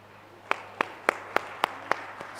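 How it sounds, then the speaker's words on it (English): Hand claps at a university international conference and research conclave after a talk: seven sharp, evenly spaced claps in a slow steady rhythm, sounding like only a few people clapping rather than full applause. "Can we have a huge applause for our eminent speaker who's delivered beautiful thoughts for our students"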